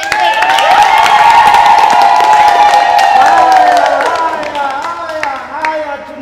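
Wedding guests let out loud, sustained warbling ululations with cheering and clapping from a close crowd, the trilling voices fading slightly near the end.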